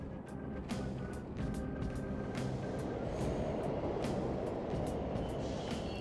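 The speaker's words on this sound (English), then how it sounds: "trains are totally running" Subway trains rumble through a station in the video game Persona 5, a steady broad roar with repeated sharp metallic clicks and rattles over several seconds, continuous and fairly loud.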